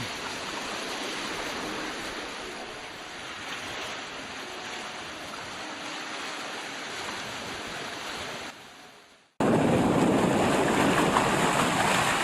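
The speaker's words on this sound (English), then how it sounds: "a little amateur jerky video about sailing my old Searunner Trimaran Scrimshaw" A Searunner 31 trimaran sails downwind on a dead run, wing and wing, with a steady rushing wash of water along the hulls and some wind, continuous and fairly close, cutting off abruptly before resuming louder.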